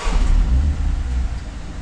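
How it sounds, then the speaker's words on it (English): A BMW M135 F70 cold-starts with an emissions-regulated startup, giving a short, loud, deep rumbling burst that stays close and steady for under two seconds. "Do you want some emission regulated startup noise?"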